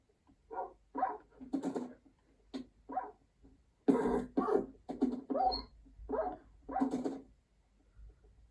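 Several dogs in the Minecraft video game bark in a quick irregular series, sharp yips and woofs close and fairly loud, with brief pauses between bursts.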